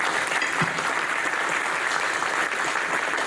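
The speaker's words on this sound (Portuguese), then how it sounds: "o setor de colchões acho que merece uma salva de palmas" Steady applause from an audience at a Brazilian mattress-industry event, honoring the mattress sector; dense, continuous clapping fills the whole stretch at an even level with no talk over it.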